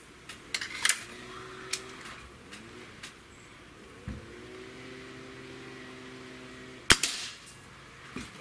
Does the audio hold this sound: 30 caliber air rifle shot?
yes